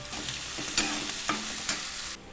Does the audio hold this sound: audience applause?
no